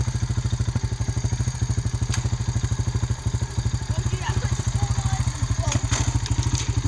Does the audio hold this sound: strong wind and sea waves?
no